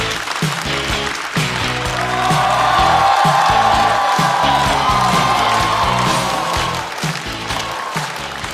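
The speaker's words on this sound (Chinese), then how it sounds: "让我们掌声欢迎二哥" Studio audience at a stand-up comedy show claps and cheers to welcome a comedian, a loud, dense burst of applause with whoops that swells in the middle and stays strong to the end.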